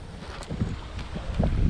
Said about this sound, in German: So einen Wind haben wir heute, das ist Wahnsinn.